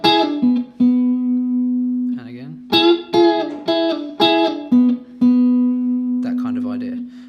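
Electric guitar plays a funk lick in double stops that doubles a vocal melody, with short plucked phrases and sustained ringing notes, played alone and up close.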